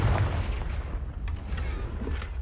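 A Confringo fire spell blast in the Hogwarts Legacy video game, a heavy booming burst that rumbles loudly at the start and then trails off into a low, fading roar.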